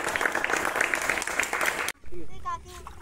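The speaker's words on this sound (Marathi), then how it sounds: "या टीमसाठी आपण पुन्हा एकदा जोरदार टाळ्या वाजवूयात" A crowd applauds a mallakhamb team at an agro-tourism resort in Neral, with dense, fairly loud clapping for a couple of seconds before it stops and a person starts talking.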